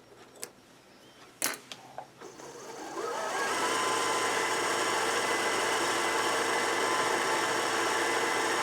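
Sewing machine winding a bobbin: a few faint clicks, then a steady high whirring hum starts at about three seconds and runs on evenly, close and alone.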